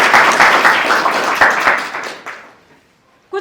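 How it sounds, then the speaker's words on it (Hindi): Loud applause from an audience at a teacher-training college welcome ceremony in Udaipur, dense clapping that fades out over about two seconds to near silence, then a brief voice at the very end. "जोरदार ताली हो जाए।"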